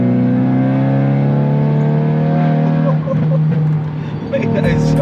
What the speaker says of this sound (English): I want to give it one more rev match just because it is very addictive